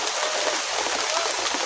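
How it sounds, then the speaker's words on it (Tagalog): Heavy rain pours down outdoors, a dense, loud, steady hiss of drops that stays unbroken throughout with no voices. "Ang lakas ng ulan ngayon,"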